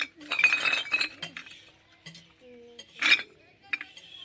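Glass liquor bottles clink against each other in several sharp bursts, bright ringing knocks separated by short gaps, fairly close, with a few quieter rattles between.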